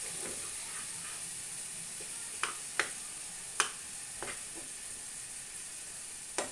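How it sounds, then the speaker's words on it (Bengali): Meat frying in a small amount of oil in a pan, a steady close sizzle with a few sharp pops and crackles spaced through it, no voices. "যে তেলে ভাজতেছি আর বেশি তেলও দিইনি, অল্প তেলে ভাজতেছি।"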